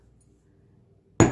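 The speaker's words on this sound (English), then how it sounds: "we're going to hammer this loop flat" A single sharp metallic strike lands as a hammer hits a wire loop on an anvil during jewelry wirework, one bright ringing clink after near silence.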